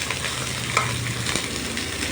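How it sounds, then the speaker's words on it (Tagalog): Vegetables for pancit sizzle steadily in a hot pan while being stir-fried, with a constant frying hiss and a few light scrapes of the utensil, close up and with no voices. "halo-haloin natin"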